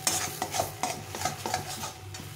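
Rhythmic scraping of a spatula tossing kharkol leaves in a pan, with a soft sizzle underneath, close and steady, about one stroke every third of a second.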